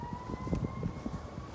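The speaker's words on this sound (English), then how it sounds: "a police siren off to the side" A police siren wails far off beside a gazebo in a park, a faint steady tone sitting low under quiet outdoor background noise.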